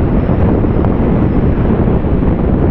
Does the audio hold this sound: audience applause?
no